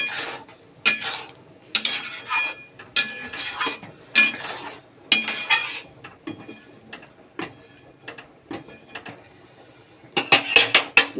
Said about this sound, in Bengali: এবার মশলাটা ভালো করে একটু কষাবো।